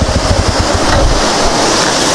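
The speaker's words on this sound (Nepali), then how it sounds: "कति ठुलो भयो कि झरना" A large waterfall rushes in the rain as a dense, loud, continuous roar of pounding water, close by and unbroken throughout.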